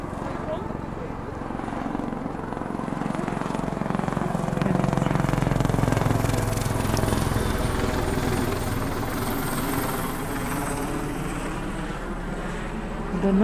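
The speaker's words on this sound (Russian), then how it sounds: "Вертолет летает." A steady low rotor drone hums through the whole stretch, swelling slightly in the middle as a helicopter passes overhead, with faint talk beneath.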